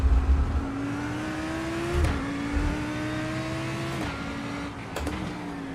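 An iRacing race car engine at Fuji revs steadily, its pitch climbing through gears with brief drops at each shift, close and continuous.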